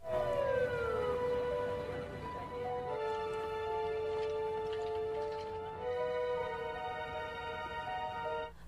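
A wailing siren with sweeping, overlapping tones sounds steadily and loudly throughout, pitch gliding down then holding, like an ambulance passing close by.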